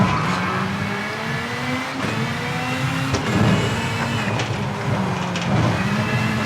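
Rally car engine in V-Rally 4, driven flat out over a jump in a rallycross event: a steady, loud engine drone with shifting pitch that dips briefly around gear changes and landings, no talk.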